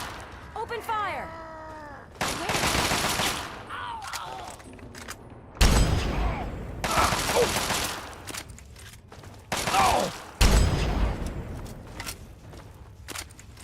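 Bursts of heavy gunfire in the wasteland shooter Fallout 3, repeated volleys crackling in several loud clusters with gaps between, layered over game effects and voiced character lines.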